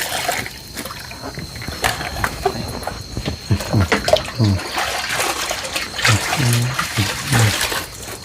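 Water splashing and trickling as something is rinsed outdoors, a steady close wash of running, pouring water with intermittent splashes, while voices talk faintly underneath.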